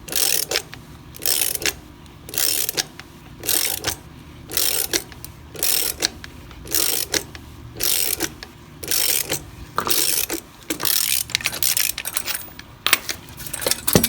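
Ratchet working off a part from an old harmonic balancer on a 1967 Camaro: loud, regular bursts of rapid clicking, each about half a second long, separated by short pauses, close up with no talk.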